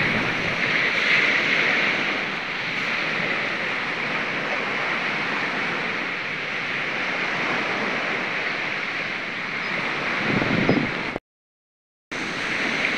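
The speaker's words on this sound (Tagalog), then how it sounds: "Malawak na karagatan." Ocean waves wash steadily onto a seashore, a broad continuous roar mixed with wind buffeting the microphone, briefly cut to silence near the end.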